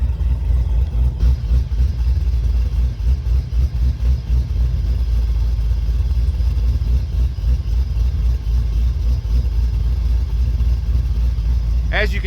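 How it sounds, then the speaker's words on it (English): A car with a BTR centrifugal supercharger and BTR centrifugal blower cam idles loudly and steadily, with a choppy, lumpy low rumble and faint high whine layered on top, close to the engine. "the supercharger makes all kinds of nice supercharger noises"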